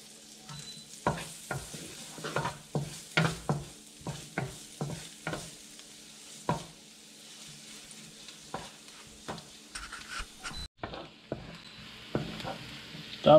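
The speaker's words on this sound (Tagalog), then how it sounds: "ngayon maggigisa na tayo. Ang gagamitin natin ay butter. Tapos, lagay na natin yung ating garlic." Garlic sautéing in melted butter in a pan, a soft sizzle under repeated spoon scrapes and stirs at an uneven rhythm, fairly close and quiet.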